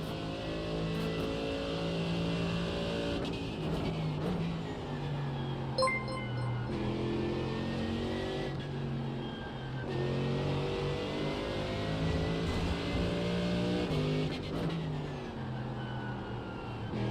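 A GT3 race car engine in a racing video game revs and shifts steadily, rising and falling in pitch through gear changes at a loud, close, continuous level with no talk.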